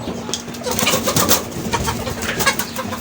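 Young chicks and cockerels about one to three months old call in a busy flock, with overlapping chirps and peeps close by and no talk.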